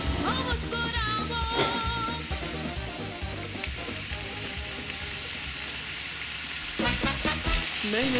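Spaghetti stir-fried for Surinamese chow mein with mixed meat, giving a steady, dense sizzle from start to finish while music plays loudly over it.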